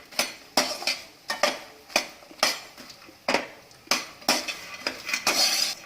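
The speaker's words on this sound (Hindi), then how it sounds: "मखाने डाल देंगे और इनको भी क्रिस्पी होने तक फ्राई करना है और बिल्कुल लो आंच पे" Makhana (fox nuts) fry in two tablespoons of ghee in a pan on low heat, with a spoon scraping and clinking against the pan in repeated rhythmic strokes over a faint sizzle.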